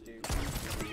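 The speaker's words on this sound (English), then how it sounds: "Are you shooting with the cannon?" A ship cannon fires in a pirate video game, a sudden heavy boom that rumbles and rolls on with a crackling tail, breaking in after a quieter stretch.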